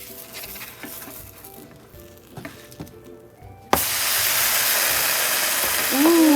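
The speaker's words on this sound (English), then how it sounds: "Ooh, listen to that sizzle." Buttered bread for a sandwich in a covered pan, quiet with faint clicks and taps at first, then a sudden, steady, loud hiss of sizzling takes over for the last few seconds.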